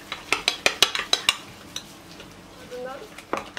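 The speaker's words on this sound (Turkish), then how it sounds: "3 adet yumurtayı şöyle çırpıyorum önce." Whisking three eggs in a bowl for courgette fritters: a quick run of sharp clinking strokes, then a pause and a few more clinks, close and clear.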